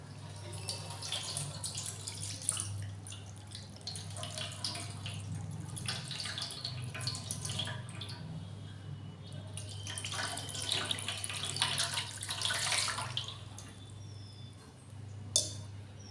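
Water poured from a vessel to bathe a small deity idol with Ganges water at a home shrine, a steady close trickle and splash over a low hum, with a few brief louder splashes toward the end.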